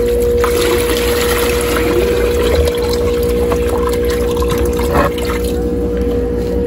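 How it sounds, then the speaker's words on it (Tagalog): Stock water poured from a bucket into a small DIY tub pond, a steady continuous splashing and trickling with a faint hum in the background. "Tumali natin dahan-dahan ang stock water natin."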